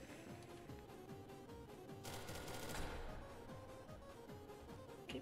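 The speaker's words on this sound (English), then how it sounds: "Keep fucking firing my gun." Rapid automatic gunfire from a weapon in SCP: Secret Laboratory, firing in quick continuous bursts, fairly faint and without talk, with a denser flurry of shots near the middle.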